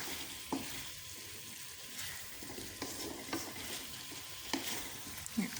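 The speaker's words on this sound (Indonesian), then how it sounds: "Kurang lebih 5 menit kita tumis seperti ini sambil kita aduk-aduk" Spices, sauces and sweet soy sauce for soy sauce chicken sizzle in a pan under steady stirring, with soft utensil scrapes and occasional taps against the pan over a continuous low frying hiss.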